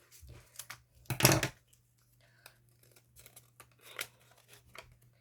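Scissors cut folded paper to size during a paper craft. One loud crisp snip and crinkle stands out, followed by quieter snips and rustles at close range.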